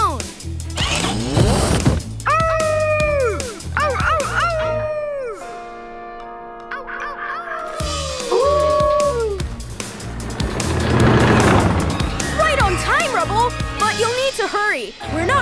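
A cartoon dog howls and wails in long rising and falling tones imitating a lone wolf, amid busy cartoon music, yips and other voices.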